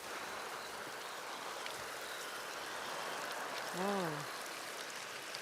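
A garden hose with a high-flow nozzle waters a cabin garden in July, giving a steady, even rushing hiss throughout, with one brief exclaimed voice cutting in near the end.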